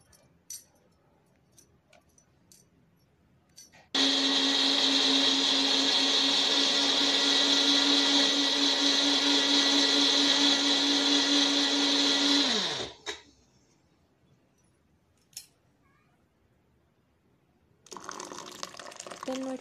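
A kitchen blender whirs loud and steady for about nine seconds as it blends strawberries for a milkshake, then winds down to a stop, with small clicks and handling noises around it.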